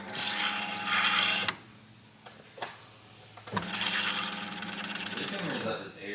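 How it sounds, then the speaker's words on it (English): A Honda Civic's fuel pump, on a built turbo H22 engine, buzzes and whirs while priming in two steady bursts separated by a pause, close and fairly loud, with faint clicks in between. "going to prime the fuel, and we'll just make sure we got enough pressure up here"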